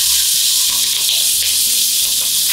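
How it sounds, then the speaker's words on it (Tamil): Large onions sautéing in hot oil for a yam kara kuzhambu make a loud, continuous bright sizzle and hiss, close and unbroken, with no talking. "நான் பெரிய வெங்காயம் போடுறேன் இன்னைக்கு"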